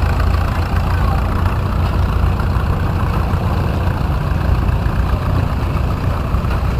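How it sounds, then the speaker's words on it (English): A 1953 Case SC tractor runs steadily with a 1940 Case hay press at a hometown show, a loud, even low engine drone with no pauses. "Next, we have Richard Daly on a 1953 SC Case with a 1940 Case hay press."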